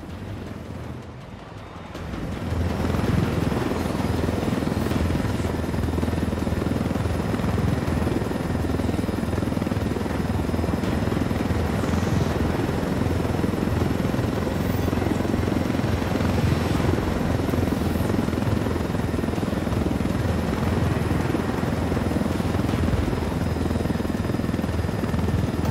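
A helicopter in the video game Ghost Recon Wildlands flies with a continuous loud rotor thump and engine roar. The sound starts abruptly after a short quiet moment and then holds steady throughout.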